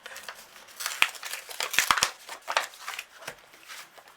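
Paper envelopes from a floral gift card set are opened out by hand with close, irregular crinkling and rustling, plus a few sharp snapping folds, and no voices.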